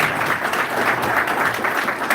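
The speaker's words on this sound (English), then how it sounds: "Another round of applause for Mr." A round of applause from the audience at a corporate partnership event, dense continuous clapping filling the room at an even, fairly loud level.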